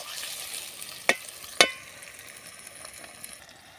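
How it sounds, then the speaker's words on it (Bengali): Onions frying in a pan at an outdoor riverside picnic, a soft steady sizzle with two sharp clinks of a utensil against the pan near the start, then quieter continuous frying. "পেঁয়াজ ভাজা চলতেছে এখন"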